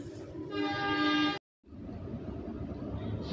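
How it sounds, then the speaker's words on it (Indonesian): The Serayu train pulls into Maswati station in Indonesia, its horn blaring as a loud tonal blast, then a short cut and a steady rumble of rolling wagons. "kereta api Serayu tiba di stasiun Maswati"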